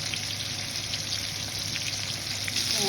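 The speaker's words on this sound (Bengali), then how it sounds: "এখন আমি তেল গরম হয়েছে, ওইখানে বোয়াল মাছটা দিয়ে দিলাম" Boal fish seasoned with salt, chili and turmeric fries in hot oil, a steady close crackling sizzle that runs evenly and swells slightly at the end, with no talking.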